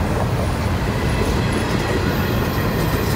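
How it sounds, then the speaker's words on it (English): A freight train rolls past on the Norfolk Southern line, its wheels rumbling and clacking over the rails loud and close in a continuous wash of noise, with no voices. "this is a good train right here."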